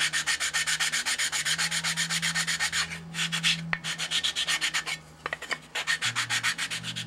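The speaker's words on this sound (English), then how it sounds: "Now just trimming these off. They're just a tiny bit oversized, and I'm taking the amount of the pen line off." Rhythmic rubbing strokes of sanding or filing wood pieces trimmed down to a pen line on a Windy U Master 803 Buddy model, fast even back-and-forth passes, close and loud, pausing briefly midway.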